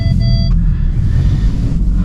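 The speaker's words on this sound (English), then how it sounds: "you could really hear those intake sounds too" A tuned Audi S3 8V driven through a Canadian snowstorm, a loud close engine and intake rumble that stays constant and deep, with a brief high whine at the start, and no talking.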